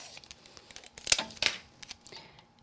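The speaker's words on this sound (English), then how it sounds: "Tape it into place." Tape is pulled and pressed into place on a handmade butterfly Valentine card, making a quick series of crinkly, ripping pulls and soft taps close up, with the loudest tearing bursts in the middle.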